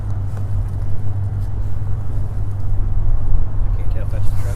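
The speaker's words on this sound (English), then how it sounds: "I think it's a gas truck. I know a V8 truck when I hear it." A V8 gas truck rumbles past on a road near railway tracks, its deep engine drone swelling slightly as it goes by, with voices talking over it.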